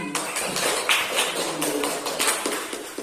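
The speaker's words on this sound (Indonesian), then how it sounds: "Tepuk tangan untuk temannya." A classroom of students applauds a classmate, a dense burst of many hands clapping together at close range for about three seconds with no talk over it.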